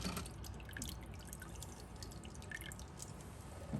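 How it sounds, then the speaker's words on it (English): A large antique silver Art Deco jewelry piece is rinsed under a running tap, making a steady close hiss of flowing water with light splashing and dripping throughout. "I'm gonna then just rinse it under the water."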